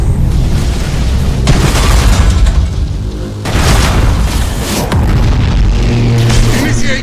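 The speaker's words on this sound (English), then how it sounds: "Imperial ship destroyed!" An Imperial ship explodes in the space strategy game Battlefleet Gothic Armada 2, loud, heavy booms with deep rumbling that swell and renew several times over a sustained roar of battle.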